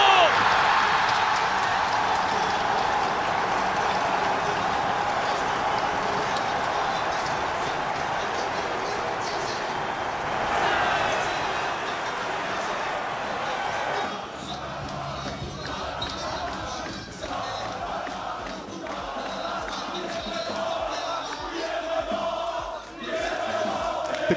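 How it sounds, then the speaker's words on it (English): A stadium crowd in an eLigue 1 football video game roars and cheers continuously, a dense wash of noise that eases slightly partway through while game sounds continue. "The crowd are loving it."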